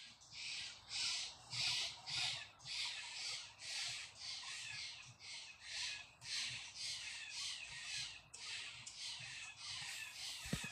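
Crows cawing in a steady run of repeated calls, about a dozen bursts in rhythmic succession, fairly close and loud above a low background hum, with no talking.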